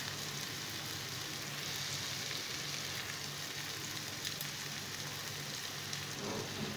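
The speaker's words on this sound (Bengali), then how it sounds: "পেঁয়াজটা একটু হালকা ফ্রাই করে নেব।" Onion and garlic frying lightly in a pan, a faint, steady, even sizzle continuing throughout with no talk.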